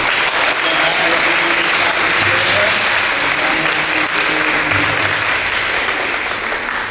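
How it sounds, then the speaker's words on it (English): Audience applause for Ava Poplowski, the student artist, at an eighth grade promotion ceremony: steady, dense clapping from a large crowd that holds at a constant level throughout, with faint voices mixed in. "please give Ava a nice round of applause"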